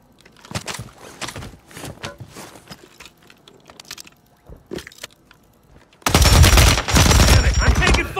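Light machine gun fire in a video game. Scattered footsteps and movement noises come first, then a loud, sustained burst of close automatic fire takes over for the last couple of seconds.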